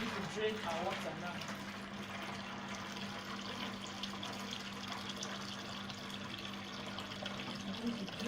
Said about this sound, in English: I'm going to drain our water now.